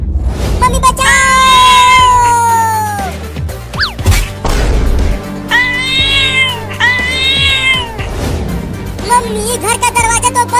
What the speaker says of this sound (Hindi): एक खतरनाक बिल्ली घर में कैसे आ गई?